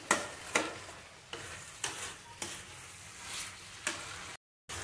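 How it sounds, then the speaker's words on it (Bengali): Broad beans fry in a pan with a soft sizzle, broken by sharp scraping strokes of a spatula stirring them at an uneven rhythm, close by. "এরমভাবে আপনারা সিম ভাজা করে নেবেন"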